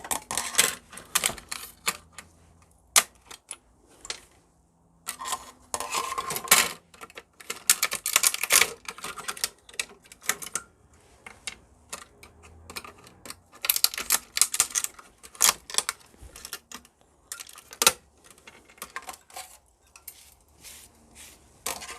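Small electronic transformers salvaged in microscrapping are tossed into a scrap container, producing a long run of sharp clattering knocks and rattles in irregular bursts with short pauses, close and fairly loud, with no speech.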